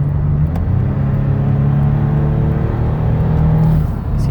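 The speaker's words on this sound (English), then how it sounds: "get them out on the highway so you can hear the engine run and the transmission shift" Engine of a 2014 Toyota Sienna L wheelchair mobility van running steadily at highway speed, a close, continuous low hum and rumble with faint road noise and no voices.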